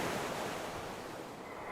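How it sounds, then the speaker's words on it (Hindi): Strong sea waves washing against a shore in a cartoon, a loud continuous rushing surf roar that fills the whole stretch without pause. "आज लहरें भी काफी तेज थी"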